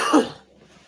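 A single short, harsh cough from a person who has just been drinking water, close and fairly loud, fading quickly into a quiet room with no speech.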